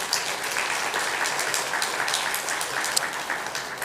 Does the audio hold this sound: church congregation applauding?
yes